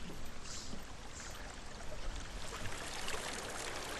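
Steady rush of flowing water from the video game Hellblade: Senua's Sacrifice, an unbroken stream sound at fairly low level, with no talking.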